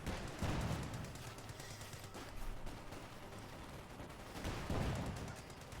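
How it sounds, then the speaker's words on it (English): Assault rifles blaze in a Company of Heroes 2 battle, a dense run of rapid gunfire bursts that swell and fade over several seconds, mid-distance and fairly steady with no voices. "Assault rifles blazing at Satomis."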